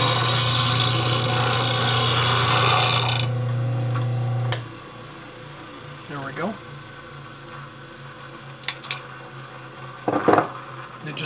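A bench grinder puts a bevel on a woodturning tool with a steady, loud whirring hum and grinding for several seconds, then spins down, leaving quiet handling sounds and a few clinks.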